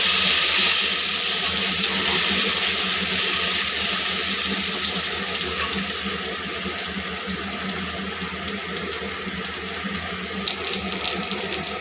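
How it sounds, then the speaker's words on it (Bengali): Potato pieces added to hot oil left over from frying fish, giving a loud, steady, even hiss of frying that carries on without a break and with no talking. "এবার এই তেলের মধ্যেই দিয়ে দেবো আলুর টুকরোগুলো। এগুলো হালকা একটু ভেজে নেব।"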